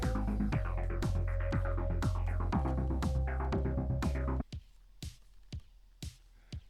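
Drum pattern playing back: punchy kicks and sharp snare hits in a steady groove over a sustained tone, then sparse isolated drum hits alone.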